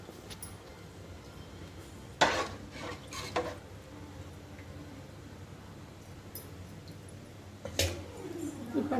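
Fish curry being stirred in a cooking pot, with a few short scraping and clinking knocks of a spoon against the metal over a steady low background hum, and no talking.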